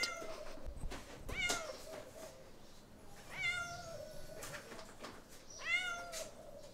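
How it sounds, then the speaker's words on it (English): A cat on the seaside near Antalya, Turkey, gives three drawn-out, plaintive meows spaced a couple of seconds apart, fairly close, over steady outdoor background noise. "one is bidding us a very desperate farewell at the moment"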